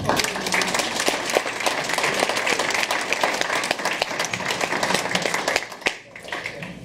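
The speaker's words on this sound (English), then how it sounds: "you should give yourself an applause for that" Sustained applause from a sizable crowd, dense clapping at a steady level before tapering off near the end.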